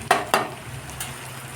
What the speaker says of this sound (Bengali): এই মশলাগুলোকে আমি ভালো করে ভেজে নেব।